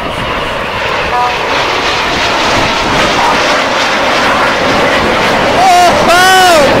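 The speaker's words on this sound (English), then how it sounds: "Red 1 about to bank the aircraft to the left, changing smoke colour" Red Arrows jets performing a display manoeuvre at the 2019 Atlantic City Airshow, a loud sustained engine roar swelling toward the end as an aircraft sweeps past, with crowd babble underneath.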